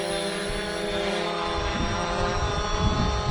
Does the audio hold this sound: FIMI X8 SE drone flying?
yes